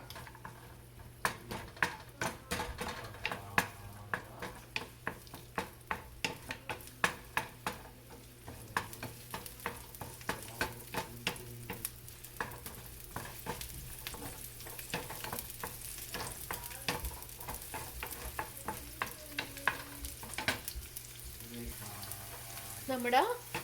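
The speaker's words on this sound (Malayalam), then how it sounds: "നമുക്കിതിലേക്ക് അരിഞ്ഞു വച്ചിരിക്കുന്ന ഉള്ളിയും വെളുത്തുള്ളിയും കൂടെ ആഡ് ചെയ്ത് കൊടുക്കാം." Chopped onion and garlic fry in hot oil, a steady crackling sizzle with frequent clinks and scrapes of a stirring spoon against the pan throughout.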